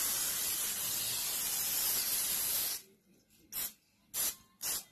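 Cooking spray hissing in a long continuous burst onto a 9x13 baking pan being greased for brownies, followed by three short, sharp spritzes after a brief pause.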